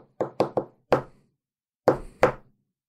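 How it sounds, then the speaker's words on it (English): Knuckles rap on a manager's office door: a quick run of three knocks, then a single knock, a pause and two firmer knocks, all close, crisp and loud, with no talking. "knock on the door. How do you knock?"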